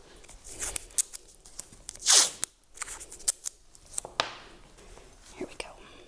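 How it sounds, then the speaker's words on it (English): Strips of tape are pulled and snipped while putting together a lightbulb terrarium: sharp close clicks and crinkles with one longer ripping pull, set against a quiet background with soft whispery handling noise. "Get a couple pieces of tape ready just in case."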